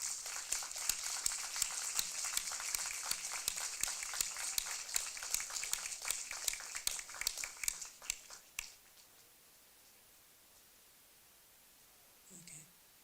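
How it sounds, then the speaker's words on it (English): Applause from delegates in an assembly hall after a resolution is approved at a regional Model European Parliament session in Sassari, a dense rush of clapping with sharp individual claps that thins out and stops, followed by near silence and a brief voice. "Clap is in order."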